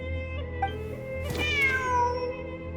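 A cat meows in a Genshin Impact game scene: one clear rising-then-falling meow near the middle, fairly close, over a steady droning game background with no talking.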